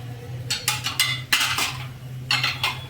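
A metal ladle stirs buttermilk simmering in a cooking pot, making several scraping, clinking strokes against the pot's sides in irregular bursts over a low steady hum from the stove.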